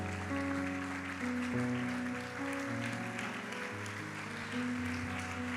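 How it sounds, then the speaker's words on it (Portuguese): A church congregation applauding during a service, a sustained wash of clapping under held organ or keyboard chords, steady and moderately loud throughout. "Você pode assentar-se aplaudindo a Ele mais uma vez."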